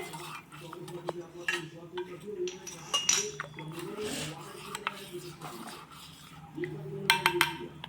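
Gram flour mixture for Gujarati kadhi being stirred in a metal vessel, giving soft repeated scraping and clinking strokes with a few sharper utensil clinks, close by, with faint background sounds.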